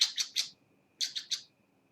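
Pet birds call indoors in two quick bursts of three sharp, bright chirps each, separated by a short pause, close and clear over a quiet room.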